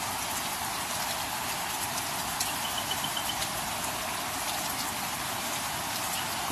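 Steady rain falls on a surface in a dense, even hiss that continues unbroken throughout, with faint patter and no voices.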